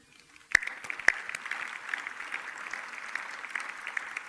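Audience applause greeting family members introduced at a speaking event: a couple of sharp near claps, then a sustained even patter of many hands from a moderately distant crowd.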